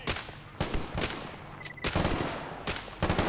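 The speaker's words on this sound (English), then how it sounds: "And they just started shooting" Video game gunfire aimed at Monolith fighters: loud bursts of automatic shots in several rapid volleys separated by brief pauses, each burst sharp and close.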